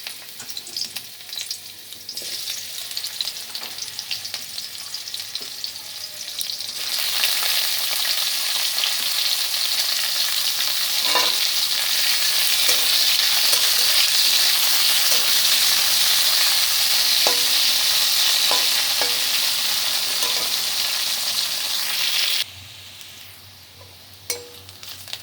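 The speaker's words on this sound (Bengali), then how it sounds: "এবার ওই তেলের মধ্যে আমি উচ্ছেটা দিয়ে দেবো" Salted bitter gourd drops into hot oil and a loud, dense frying hiss swells up, holding strong for about fifteen seconds with faint utensil clinks before it drops away abruptly.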